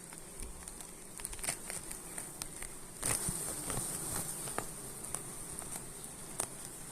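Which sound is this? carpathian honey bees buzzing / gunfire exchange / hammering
carpathian honey bees buzzing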